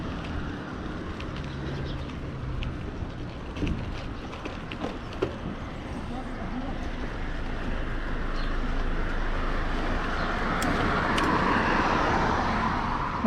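A car drives along a road after a storm, giving a steady broadband rumble of tires and engine that swells slightly toward the end, with faint clicks over the top and no talking.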